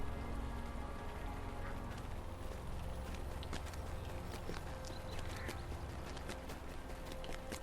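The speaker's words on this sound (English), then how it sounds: "Started to rain." Steady rain falls in the Lord of the Rings Online game world as the weather turns gloomy in a city, a continuous dense patter with faint thuds like hooves or footsteps mixed in, and no talk.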